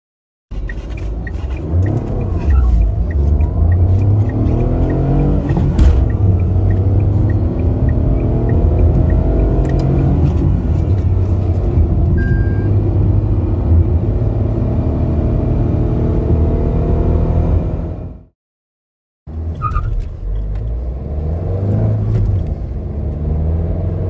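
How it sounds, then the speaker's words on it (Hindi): A Tata Altroz hatchback accelerates hard from 0 to 100 km/h with a steady, loud engine drone and rising revs. The sound cuts out briefly to silence, then the engine noise resumes. "अब आइए पेट्रोल और डीजल दोनों ही इंजन्स का 0 to 100 टाइम चेकआउट करते हैं।"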